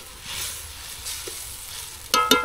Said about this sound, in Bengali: জিরে ফেলে দিয়ে জিরেটা ভালো করে একটু ঘেটে নেব।